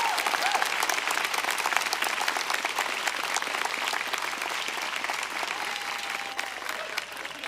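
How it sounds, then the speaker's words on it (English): Sustained applause from a large audience at a university commencement ceremony, steady dense clapping filling the hall throughout without letting up. "Please give him a big round of applause."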